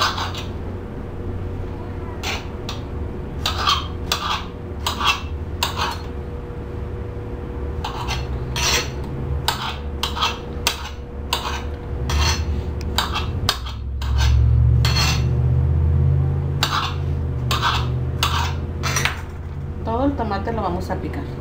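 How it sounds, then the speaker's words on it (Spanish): A knife dices a vegetable into cubes on a cutting board for a chicken salad, giving a run of sharp, irregular chopping taps, close and clear, with a low rumble and a short scraping sound near the end. "Este lo vamos a picar en cuadritos,"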